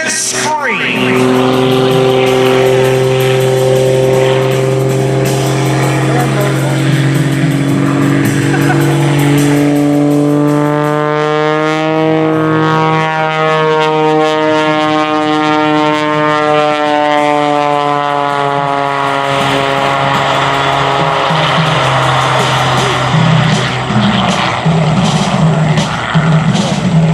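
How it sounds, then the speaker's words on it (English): Lycoming aircraft engine screaming through a high-G aerobatic air show routine, loud and continuous with pitch sweeping up and down as the plane pulls and rolls; a commentator talks over it. "Listen to that Lycoming engine scream."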